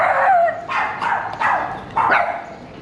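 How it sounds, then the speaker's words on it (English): Dogs on a neighborhood street in Athens, Greece bark four times in sharp, loud, fairly close, evenly spaced barks. "Big bad dogs"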